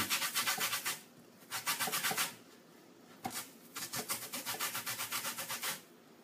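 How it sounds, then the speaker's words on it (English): An orange is zested against a grater in repeated bursts of rapid, dry scraping strokes, rhythmic and close, separated by short pauses. "Right, zest of orange."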